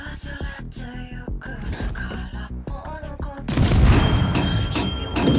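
Naval guns fire at a cruiser in World of Warships, heavy booming shots punctuating the game mix before a louder rumbling barrage builds near the end, with some voice chatter underneath.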